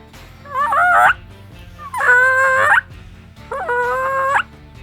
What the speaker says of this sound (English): This is what it sounds like with the call.